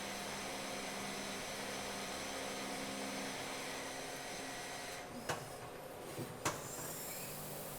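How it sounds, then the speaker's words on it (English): A CNC lathe mills chamfers on the flats of a part, giving a steady mechanical whir with a few brief sharp clicks near the end. "So it's allowing me to chamfer all these flats without using the y-axis."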